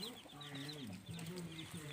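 Chicks and chickens cluck in a village yard, a continuous run of soft, close, overlapping clucks and chirps.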